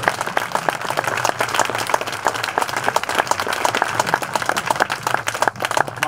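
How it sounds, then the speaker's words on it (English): Crowd applause at a groundbreaking ceremony for the W&M Athletics Complex, steady dense clapping sustained at an even level throughout, fairly close and filling the whole stretch. "how about a round of applause for each one of you for being here today and celebrating."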